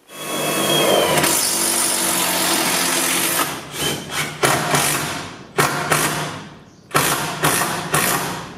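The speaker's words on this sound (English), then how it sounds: "Just drill that screw up through that to support it." A power drill drives a screw up into a wooden battery rack for an off-grid solar setup: a long steady whine for about three seconds, then several short bursts with pauses between, alone with no speech.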